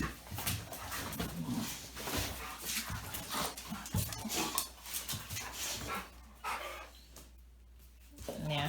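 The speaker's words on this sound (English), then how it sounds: "Jack's outside making little sad puppy noises" A Dogo Argentino puppy whimpers and whines with soft, sad high-pitched noises, mixed with panting and a few small barks, heard under ongoing talk.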